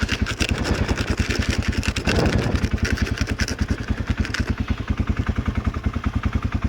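A motorcycle engine idles steadily at about 1,200 RPM with an even, rapid low thump and some mechanical clatter, close and loud throughout, with a brief rougher burst midway.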